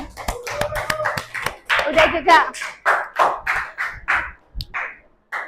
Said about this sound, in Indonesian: tepuk tangan dulu nih buat kelompoknya Melisa